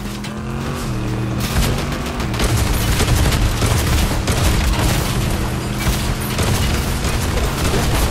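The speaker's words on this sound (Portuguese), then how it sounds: "Já tô atirando aqui, meu Deus do céu, olha o tanto de tiro." Gunfire in a driving video game, with dense, sustained bursts of shots and booms over a constant engine drone, loud and continuous throughout the clip.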